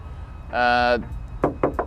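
Knuckle knocks on the steel quarter panel of a 1966 Ford Mustang in Rangoon Red, checking for body filler: a few close, sharp raps after a short burst of voice.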